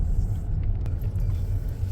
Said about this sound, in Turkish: Aha araba geliyor.